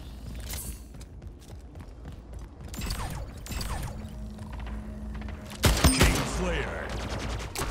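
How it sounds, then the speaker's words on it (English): Gunfire from the arena shooter Splitgate on new maps, mid-match, with a sudden loud burst of shots near the end over a steady bed of game sounds and scattered mechanical clicks. "time to finish this out with some teamwork and shoot someone through our portal"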